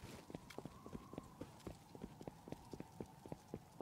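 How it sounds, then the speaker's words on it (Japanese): Footsteps in the survival game Rust tap out a quick, steady series of crisp, evenly spaced hits, faint and close, over a low background hum. "なんか足音したけど自分のか"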